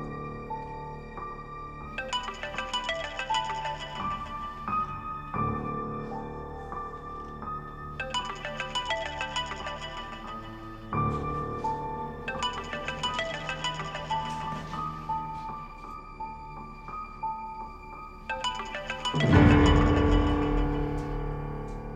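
A mobile phone ringtone plays a repeating electronic melody in bright musical phrases, loud and close, with a burst of louder sound near the end.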